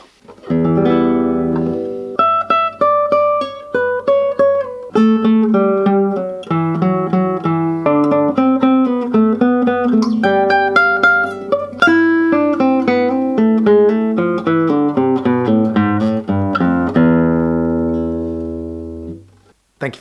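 Solo classical guitar plays a passage from Rodrigo's Fantasia para un Gentilhombre (Españoleta), a steady run of plucked, ringing notes over a low bass for about eighteen seconds, close and clear, fading to silence at the end.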